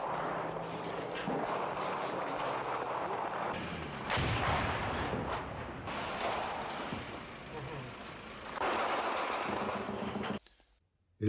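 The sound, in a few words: artillery shelling near Saigon in war footage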